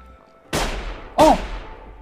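Hunting robots in the video game Sir, You Are Being Hunted fire two loud gunshots about seven tenths of a second apart, each a sharp crack with a fading echoing tail.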